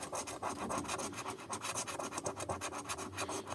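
Rapid, steady scraping of a coin across a scratch-off lottery ticket, a dense raspy rubbing that continues without pause, close and fairly loud with no talking.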